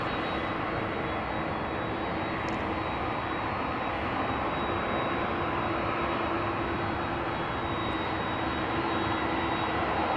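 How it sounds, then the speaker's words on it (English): A KLM Boeing 737-900 jet at the threshold of Schiphol's runway 18 left produces a steady, broad roar at moderate distance, holding constant throughout. "Boeing 737-900, 19 years old already"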